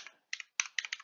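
Keys clack on a computer keyboard as a date is entered in Google Docs, a short burst of crisp, close taps in two quick clusters with no talk.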